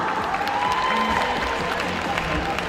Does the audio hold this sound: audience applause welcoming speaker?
yes